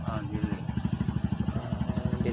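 A motorcycle engine running close by with a rapid, even, throbbing putter that holds steady throughout, no voices heard.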